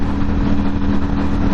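A 2021 Ducati Streetfighter V4S motorcycle in dark steel runs with a loud, steady engine drone and constant wind rush, heard briefly and close while riding.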